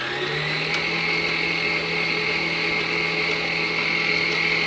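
Electric mixer whisking egg whites at low speed in a bowl, a steady close motor whine with a constant hum and no break, even in loudness throughout.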